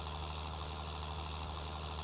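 A 120–135 hp tractor hitched to a Vence Tudo planter in Farming Simulator idles with a steady, low, even engine hum, continuous and unchanging throughout.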